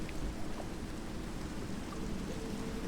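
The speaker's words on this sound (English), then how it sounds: "It's kind of peaceful being underwater while there's rain on the surface" Steady rain hisses softly and evenly in a Minecraft game world, heard from underwater while it falls on the surface above. The sound is continuous, with no voices.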